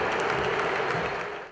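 A football stadium crowd at the final whistle of a Brazilian match lets out a dense, continuous wash of applause that stays steady, then thins slightly near the end, heard from a distance.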